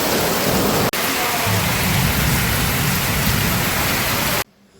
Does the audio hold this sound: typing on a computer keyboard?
no